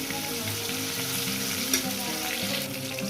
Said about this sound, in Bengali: মাছগুলো আমার ভাজা হয়ে গেছে বন্ধুরা